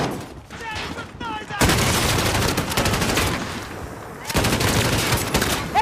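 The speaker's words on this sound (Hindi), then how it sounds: "बस मुझे कवर फायर देते रहना।" Dense rapid gunfire rattles from the video game Call of Duty: Modern Warfare, a loud sustained automatic barrage with a brief lull near the start, and voices are heard between the shots.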